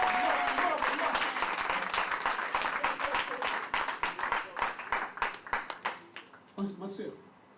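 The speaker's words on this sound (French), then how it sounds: "On acclame pour elle déjà." Wedding audience at a religious ceremony applauding the bride's sister, with dense clapping that thins into scattered individual claps, plus cheering and voices nearby.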